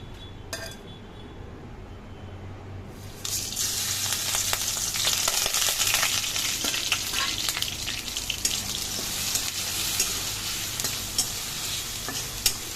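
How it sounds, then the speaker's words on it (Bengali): Garlic, dry chilli, bay leaf and five-spice hitting hot mustard oil in a wok, a quiet start then a sudden loud, sustained sizzle with crackling pops and occasional clinks. "আর এই কড়াইতে আমি সর্ষে তেল দিয়ে দিয়েছি, তেলটা গরম হয়ে গেছে। আমি একে একে এগুলো সমস্ত কিছু দিয়ে দেবো।"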